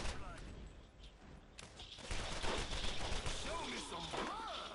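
Quiet, continuous gunfire in the video game Borderlands, a crackling volley that grows busier partway through, with players chattering over it.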